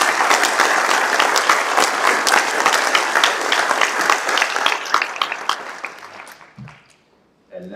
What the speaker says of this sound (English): this one deserves applause too